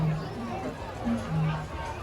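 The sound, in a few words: crowd at Disneyland on a rainy weekend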